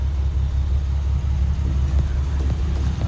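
A supercharged Lexus GS 350 with all-wheel drive runs in a racing shop, producing a loud, steady low engine rumble with a slightly pulsing idle throughout.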